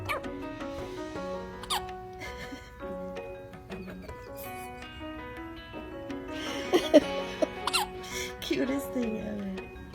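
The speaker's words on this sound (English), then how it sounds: "He's got the hiccup." A baby hiccups, giving short, sharp little peeping spasms scattered irregularly among adult voices talking and cooing nearby, with the hiccups standing out as brief squeaky bursts.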